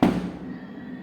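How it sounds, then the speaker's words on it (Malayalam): A single firecracker bursts outside during the Vishu festival, a sharp nearby bang followed by a rumbling decay that fades over about a second. "പിന്നെ ഇന്ന് വിഷു ആയിട്ട് നല്ല പടക്കം പൊട്ടിക്കുന്നുണ്ട്."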